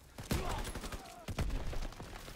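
Gunfire bursts from a Call of Duty WW2 multiplayer match, two loud clusters of rapid shots around the start and middle, with dense game noise and a voice talking underneath.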